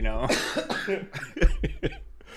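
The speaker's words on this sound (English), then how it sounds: "Now we're both coughing." Several harsh coughs in a row, close to the microphone, uneven and raspy.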